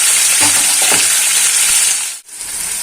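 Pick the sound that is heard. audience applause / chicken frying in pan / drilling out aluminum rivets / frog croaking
chicken frying in pan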